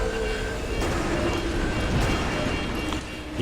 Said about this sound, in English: Tram exceeding safety tolerance.